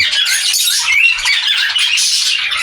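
A four-month-old white-face green cockatiel lets out harsh, rapid, shrill squawks in a near-continuous run, loud and close, with no talking.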